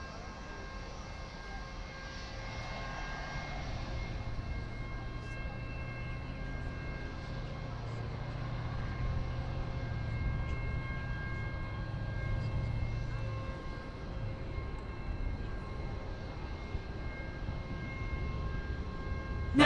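Airliner departing DFW Airport at night, a distant steady jet roar that swells gradually and then fades slightly, continuous and fairly faint.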